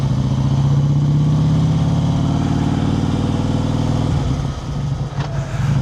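A Harley-Davidson Heritage Softail engine idles with a loud, steady low throb close by, easing slightly near the end.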